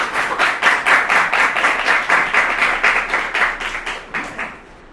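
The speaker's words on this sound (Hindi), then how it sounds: "तालियां" Audience at a ceremony for Arts-stream toppers of Mandawar, Mahwa tehsil, clapping steadily and loudly in a rhythmic burst of about five seconds that fades at the end.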